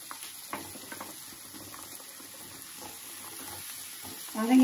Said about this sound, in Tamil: இதை நல்லா வதக்கிடுங்க. வதங்கி அந்த எண்ணெயெல்லாம் உறிஞ்சதுக்கப்புறம் இந்த காயை போட்டு